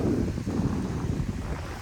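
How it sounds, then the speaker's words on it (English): Strong wind buffets the microphone on a beach in Penang, Malaysia, with jet skis nearby. It makes a loud, continuous low rumble with gusty surges and no talking. "It is very windy right now."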